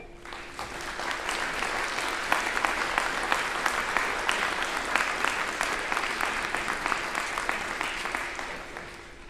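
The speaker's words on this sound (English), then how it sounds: "In appreciation for all of those who have helped you to achieve your educational goals, let's give a round of applause." A large audience applauds at a fall commencement ceremony, a dense, steady wash of clapping that holds at an even level for the whole stretch, with no voices over it.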